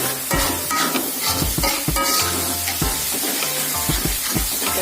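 A spatula stirs candlenuts frying in a pan over medium heat, the loud steady sizzle and hiss broken by repeated scraping knocks of the utensil against the pan.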